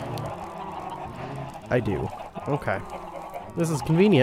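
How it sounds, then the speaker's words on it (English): Chickens cluck in the Minecraft video game, several short squawky clucks scattered under and between a man's speech, fairly close and moderately loud. "I think these chickens are causing the most issue."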